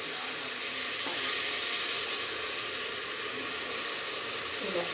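Urad dal frying in hot oil with onions, turmeric and salt, a loud continuous hiss and sizzle filling the pan up close, steady throughout with faint crackles and no voice.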